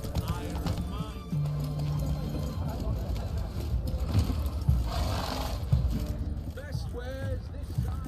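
A horse gallops in The Witcher 3, with a steady rhythmic clatter of hooves and a brief whinny, mixed with game music and background effects while voices speak over it.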